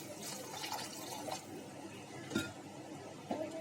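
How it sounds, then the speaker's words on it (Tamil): A small splash of water goes into mutton liver fry in a pan, giving quiet pouring, trickling and a few soft drips against a low background. "இப்போ கொஞ்சமா தண்ணி சேர்த்துக்கலாம்."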